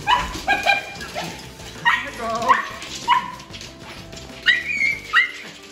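A dog just back from a kennel gives excited yips, whimpers and short barks in close, uneven bursts with brief pauses between.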